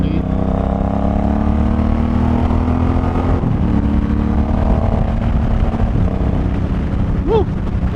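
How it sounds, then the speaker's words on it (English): Suzuki M109R cruiser motorcycle accelerating on a highway, loud steady engine drone with rising tones as it gains speed, wind rushing around it, the rider talking briefly. "getting the bike up to speed"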